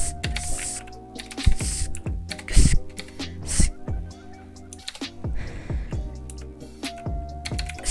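Typing on a computer keyboard, a rapid, uneven run of close clicking keystrokes with a few harder taps, heard alone over faint background tones.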